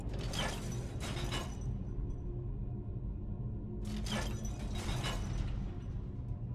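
Mechanical creaking and grinding of a hidden door mechanism in Skyrim's catacombs, a steady low rumble with two sharp rattling bursts early and two more near the end, moderately loud with no talking.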